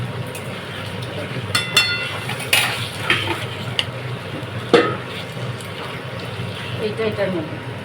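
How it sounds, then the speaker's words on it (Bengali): A spoon stirs and scrapes papaya mash seasoned with turmeric and sugar in a pan while the water cooks off, a few sharp clinks over a soft steady sizzle, with a voice talking over it. "এবার এটা নাড়াতে হবে অনেকক্ষণ করে, যতক্ষণ না জলটা শুকোয় ততক্ষণ এটা নাড়তে হবে।"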